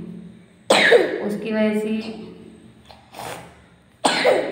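A child coughs several times in short harsh bursts, with a voice speaking briefly in between.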